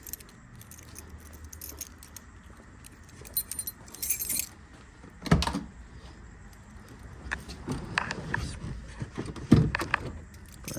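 Car keys jangle in several short, close bursts between quiet stretches, with light metallic clinks and handling noises around them.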